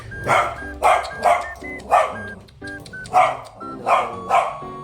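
A dog barks repeatedly at close range in short, loud bursts with brief gaps, about eight barks in an uneven rhythm, with no talking.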